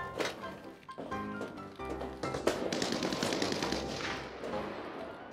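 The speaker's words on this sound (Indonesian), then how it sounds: "Siapa tuh tembak-tembakan?" Bursts of gunfire in the video game Arena Breakout, sharp cracks and rapid volleys mixed with explosions, fairly loud and continuous over several seconds.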